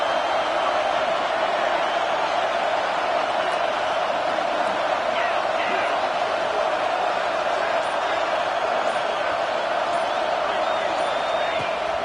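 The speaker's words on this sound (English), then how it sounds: "this crowd is making it miserable on this offense" A packed football stadium crowd at a Notre Dame versus Texas game roars on a fourth-down play, a dense, steady wall of noise that stays loud and unbroken throughout.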